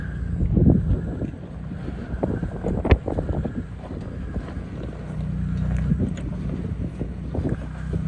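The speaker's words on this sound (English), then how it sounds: "Excuse the wind, it is really windy right now" Heavy wind buffets the microphone throughout on an off-road hill trail in the White Mountains, a steady low roar with gusty thumps and one sharp knock, no voices.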